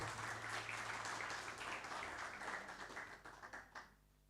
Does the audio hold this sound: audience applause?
yes